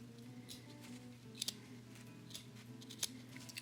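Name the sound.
scissors cutting plush fabric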